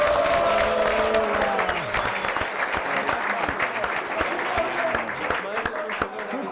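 An audience applauds at a Calcio Padova football award event, a dense, sustained round of clapping that fills the room while voices speak over it.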